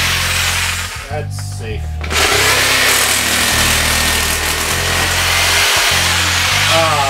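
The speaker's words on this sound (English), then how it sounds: "I cut up the pegboard with the saber saw" A saber saw cuts through pegboard with a loud, steady motor drone and rough buzzing cut that runs the whole stretch after a brief pause near the start, while someone says a few words over it.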